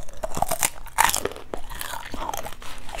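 Crisp, crunchy bites into an unreheated Vietnamese fried dough stick (giò cháo quẩy), eaten alongside beef pho, close and loud, with a few sharp crunches and chewing and faint voices in the background.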